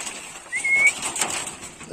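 A racing pigeon gives a short, soft call, a single rising tonal note over faint background noise, fairly quiet and alone.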